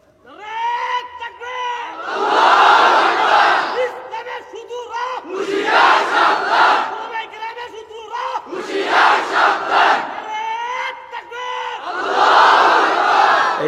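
A large crowd at a religious gathering roars a takbir chant in four loud, drawn-out waves, a leader's voice calling briefly between each massed shout.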